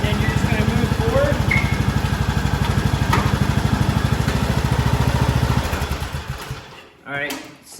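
A Craftsman T2600 lawn tractor engine running steadily with a fast, even putter close by, then winding down and cutting off near the end, with a person talking over it.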